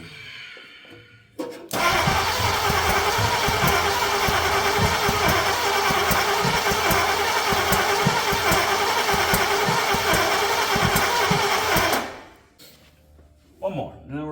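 A Volvo C30 engine cranks hard for about ten seconds in one long, loud, steady churning burst with a pulsing beat underneath, then cuts out, with quieter noises before and after.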